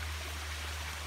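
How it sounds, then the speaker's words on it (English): Water pours over a woodland waterfall and cascades below in an August morning glen, a steady broadband rush with a low hum underneath and no voices. "The water flowing out over this waterfall and cascade down below."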